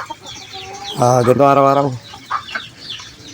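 Gamecocks cluck close by, with one loud drawn-out squawk in the middle, while a person speaks briefly before and after.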